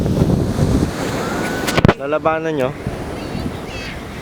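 Ocean waves surge and crash along the coast of Infanta, Quezon, with heavy wind buffeting the microphone and a loud rushing wash. A voice briefly breaks through midway.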